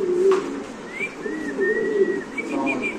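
An Indonesian Spanish pigeon coos close by in low, rolling, repeated notes, with thin higher bird whistles chirping faintly in the background.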